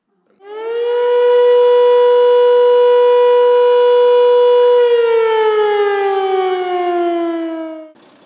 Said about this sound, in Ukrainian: було чути лише звук повітряної тривоги